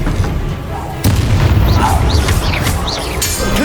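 The Expelliarmus spell is cast in Hogwarts Legacy as loud booming bursts and whooshing spell effects, with a sharper hit about a second in and continuous battle noise throughout.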